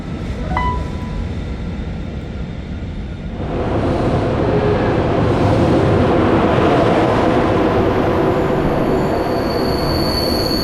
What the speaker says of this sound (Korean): 수원경유 KTX 122 열차가 정시보다 3분 늦게 동대구역을 출발합니다